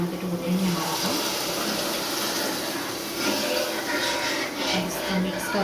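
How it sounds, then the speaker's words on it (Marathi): Hot water pours steadily into a curry in a home kitchen, a continuous close splashing rush lasting several seconds with no break, and no voices. "आता यामध्ये आपण गरम पाणीच टाकायचं आहे"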